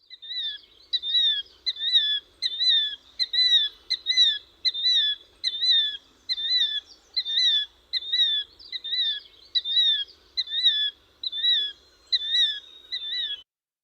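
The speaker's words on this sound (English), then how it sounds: "The killdeer is a very noisy bird that's going to be saying its name" A killdeer, a noisy shorebird, calls repeatedly in a steady series of shrill two-part notes, loud and close, with short gaps between each call and no voices.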